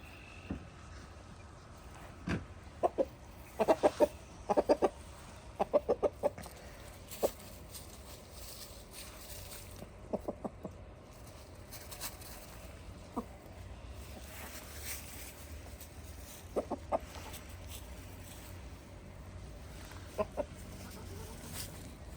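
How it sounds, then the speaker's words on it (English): Grass-fed chickens cluck in short scattered bursts over a steady outdoor background, some calls close and clear, others softer, with quiet gaps between clusters. "Grass-fed chickens."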